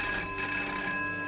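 A telephone rings with a steady, bright electronic trill, heard briefly and fairly quietly with no talking.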